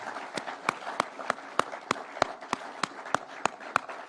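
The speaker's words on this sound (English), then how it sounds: "Can we clap for these people?" Sparse, evenly spaced claps ring out at a Kenyan political gathering honoring people who stood firm, about a dozen sharp hand claps in a steady rhythm, fairly close and alone against a quiet hall.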